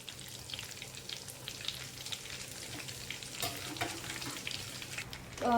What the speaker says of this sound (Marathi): सगळे कटलेट्स फ्राय झालेले आहेत